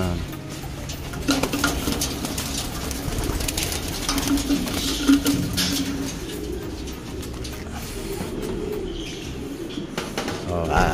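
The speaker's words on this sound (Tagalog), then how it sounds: "Ayan, kalapatids. Dami oh. Yan, lumipad yung iba." Pigeons coo softly at a pigeon loft, with a low steady murmur of birds, some rustling and a brief flutter as a few take off, under faint background talk.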